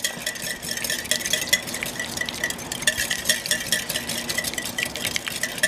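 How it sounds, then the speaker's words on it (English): A hand whisk beats olive oil, poured in a slow stream, into a classic Caesar salad dressing, giving a steady, close, rapid scraping and swishing against the bowl that continues without pause. "we're going to start whisking in that olive oil"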